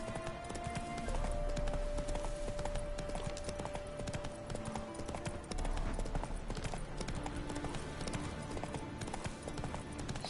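A horse's hooves clip-clop steadily in The Witcher 3 video game, a continuous rhythmic trot mixed under dense in-game music and ambience, with no voices.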